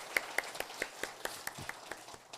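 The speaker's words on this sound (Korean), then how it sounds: "이번에는 우리 찬양대 지휘자님도 계시고 반지자 집사님도 계신데 우리 격려의 박수 하겠습니다." Church congregation applauding the choir conductor and accompanist during a Sunday service, sparse individual claps spaced about every quarter second, soft and fairly close, with no talk over them.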